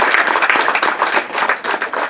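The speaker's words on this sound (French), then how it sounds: "Applaudissez pour ces gens qui nous entendent." Audience applause after a solar dryer presentation, a dense, steady patter of many hands clapping at close range for about two seconds, with no talk over it.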